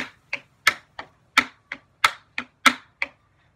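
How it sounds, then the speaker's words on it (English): Crisp tap shoe strikes ring out alone on a hard floor, about ten sharp taps in an uneven toe-heel rhythm. "it also makes a really fun sound when you're wearing tap shoes"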